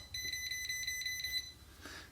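An electrical outlet tone tester beeps on a live household circuit being fitted with a replacement outlet; a rapid run of about seven short, sharp, high electronic beeps, close and alone, then a soft rustle.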